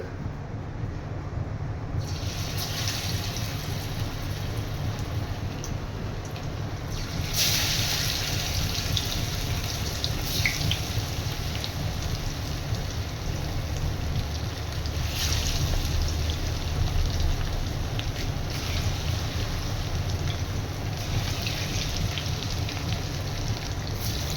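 Chicken pieces fry in hot oil in a home kitchen, a continuous dense sizzle and crackle like rain on a surface, steady and close throughout, with occasional brighter spattering surges.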